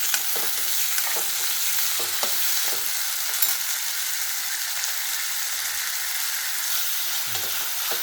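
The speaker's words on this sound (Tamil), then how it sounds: "இஞ்சி பூண்டு எல்லாத்தையும் நல்லா வதக்கிடுவோம்" Ginger and garlic sauté in a hot pan for an aloo matar dish, a steady bright sizzle close by, broken by occasional soft scrapes and stirring taps.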